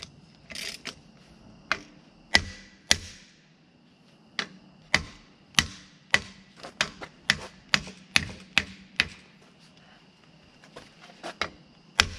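Sharp metallic taps driving a part in while installing an axle on a Dodge Ram 3500 pickup, about twenty irregular close strikes with ringing tails and short quiet gaps between them, no speech.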